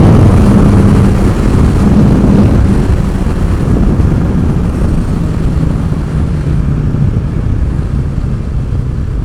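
A BMW S 1000 XR motorcycle accelerating in sixth gear, a loud, steady engine drone with a rising rumble, heavily buffeted by wind, continuous with no voices.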